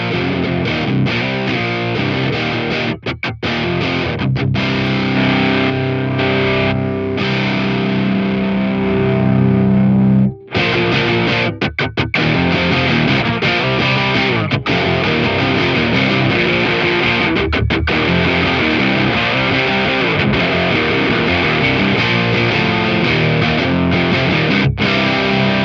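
Electric guitar played through the BD-2 side of a BOSS JB-2 dual overdrive pedal, giving a loud, continuous, crunchy distorted tone with strummed chords and short pauses.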